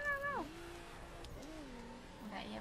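A cat gives a few faint, quiet meows: a short high wavering cry, then softer drawn-out mews that rise and fall, against a low hum.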